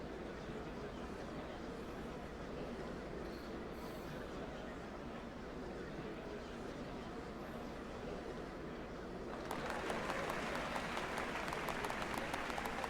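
A large crowd in the video game Final Fantasy XIV applauds steadily, a dense wash of clapping that holds throughout and grows a little louder and brighter near the end, with no talking.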